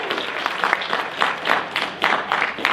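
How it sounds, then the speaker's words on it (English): A church congregation applauds during a performance of the Story of Esther, with steady, dense clapping throughout the brief moment. "Go ahead, clap for Matt."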